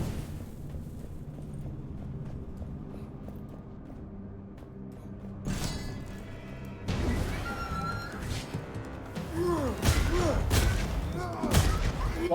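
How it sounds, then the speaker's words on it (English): Explosions in the video game Curse of the Dead Gods: after a quiet stretch of low background music, a series of heavy booms and crashes bursts out, growing denser and louder toward the end, with a voice talking over them. "Let's try the explosions a little bit."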